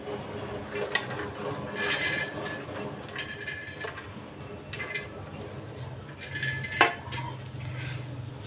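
Peanuts and two or three green chillies dry-roast in a pan for a Khandeshi stuffed brinjal masala, giving a steady low crackle with faint scraping and clinks from stirring throughout.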